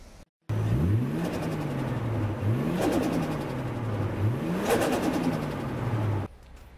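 A 1992 Mazda RX-7 FD3S, converted from turbo to non-turbo, starts on a jump starter because its battery is flat. The engine catches and is revved loudly three times in sweeping rises, then falls silent.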